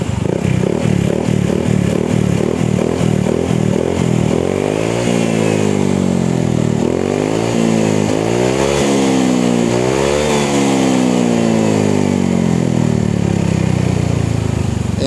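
A Honda PCX 160 scooter fitted with a standard racing exhaust burbles at a steady idle, then is revved up several times in rising and falling sweeps. The engine is loud and very close.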